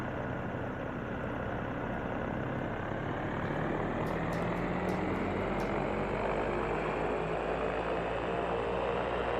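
Diamond DA40NG aircraft engine simulated in X-Plane 12, a steady loud droning hum with constant vibration throughout, no voices over it.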